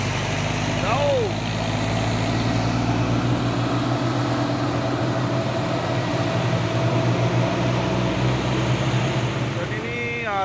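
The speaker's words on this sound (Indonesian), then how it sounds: "Dan ini ada juga satu nih truk Fuso langsung menggunakan jalur sebelah kanan" A Fuso truck drives along a road, its steady engine rumble continuous and fairly loud throughout, with a brief tonal whine rising near the start and end.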